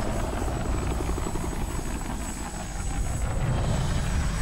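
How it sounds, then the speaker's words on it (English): A helicopter in the video game Tchia roars with a steady, close engine-and-rotor drone, a dense, unbroken whine with a faint beating throb and no voices. "What kind of helicopter is that?"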